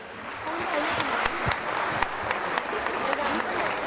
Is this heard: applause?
yes